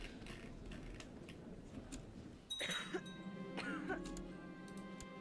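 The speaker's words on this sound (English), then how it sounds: "That was someone else coughing, I guess." A cough in the background during a Crusader Kings 2 strategy game session, a brief burst partway through against a low room hum.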